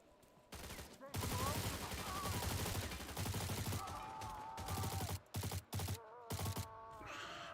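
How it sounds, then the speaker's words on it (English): Video game shotgun and rifle fire crackle in dense, overlapping volleys, followed by several sharper separate blasts toward the end, with a voice faintly present beneath the shooting. "I'm just gonna use my shotgun to kill him"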